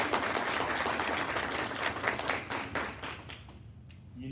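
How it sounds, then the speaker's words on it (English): An audience at a regular public meeting claps in a round of applause, a moderate steady patter of many hands that thins out and fades toward the end. "I'd just like you to give them a round of applause"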